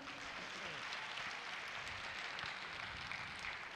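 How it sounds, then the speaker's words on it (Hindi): Audience applause at a Hindi poetry recital (kavi sammelan): a steady, even wash of clapping from a crowd, fairly faint and distant, continuing throughout. "तालियां बजाइए।"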